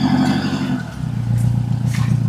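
Pickup truck engine driving over rough, uneven ground, a loud steady motor drone with rattles and a shift in pitch partway through, close and continuous.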